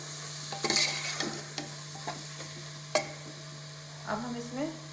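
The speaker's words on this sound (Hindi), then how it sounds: "अब इसको मिक्स कर देते हैं अच्छे से।" Mutton stirred together with ginger garlic paste in a pot, cooked without oil, giving a quiet sizzle with a few sharp spoon scrapes and clanks against the pot, close but faint over a steady low hum.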